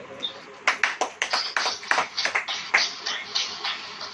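A congregation at a Hindi-language sermon claps in a brisk, uneven rhythm of sharp, close hand claps that starts abruptly and keeps going for several seconds, with no one speaking over it.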